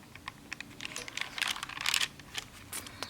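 Thin onion skin journal paper crinkling as a page is handled and turned, a soft, close, papery rustle in scattered bursts, quiet and without speech.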